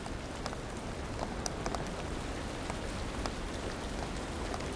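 Steady rain falls around a bird's nest in the wild, a dense continuous hiss with scattered sharper drops pattering nearby, even and unbroken throughout.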